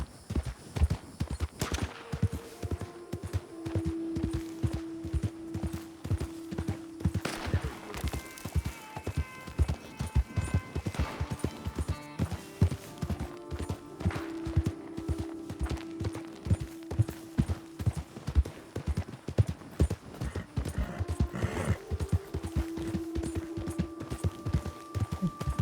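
Horse hooves clip-clopping in Red Dead Redemption 2, a steady, quick rhythm of hoofbeats running through the whole stretch alongside game music tones and an occasional whinny-like sound, with no talking.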